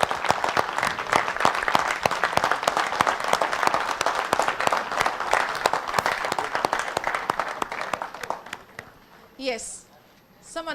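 A standing ovation and applause for Mr. Shrikant at a business leadership league event, sustained crowd clapping for about nine seconds with sharp individual claps, fading out as a voice begins speaking.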